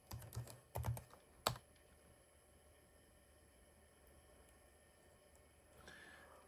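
Computer keyboard used to type commands into packet radio modem software: a few quick clusters of close keystrokes at the start, then a long near-silent pause and a faint rustle at the end.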